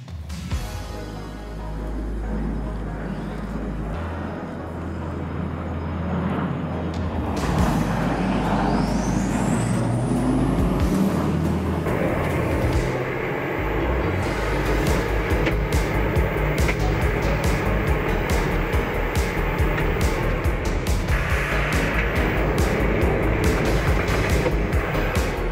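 A Duramax-powered 1984 Chevrolet C10 prerunner truck drives through corners, its steady diesel engine roar rising and shifting throughout, heard close with road and wind noise and no talk.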